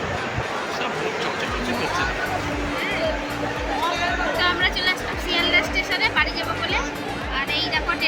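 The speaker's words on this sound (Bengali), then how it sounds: "দেখো কত ভিড়" Dense crowd of people visiting a Durga Puja pandal in Kolkata, a constant babble of many voices with footsteps and movement, a nearby person speaking over the hubbub.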